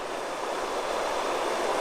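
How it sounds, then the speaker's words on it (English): Spring water boils up out of the ground at the source of the Current River, a steady rushing, bubbling hiss that runs continuously at moderate level, with no voices. "Here's where all this water comes from. It boils up out of here."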